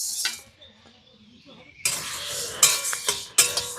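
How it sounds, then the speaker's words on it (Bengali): Whole black peppercorns, carom seeds, fennel seeds, cumin and coriander seeds dropped together into a dry wok for roasting, giving bright rattling clinks and scattering patters in a few quick bursts after a quiet stretch. "সবগুলো একসাথে দিয়ে দিচ্ছি কড়ায়।"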